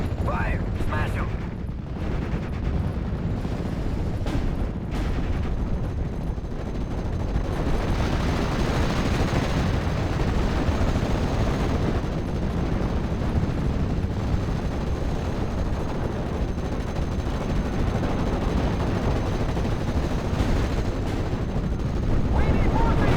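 Dense, sustained gunfire and machine-gun bursts in a World War II Normandy battle from the strategy game Steel Division: Normandy 44, loud and continuous with heavy rumbling throughout, with no gaps between bursts.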